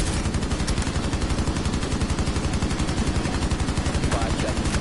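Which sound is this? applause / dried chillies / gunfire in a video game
gunfire in a video game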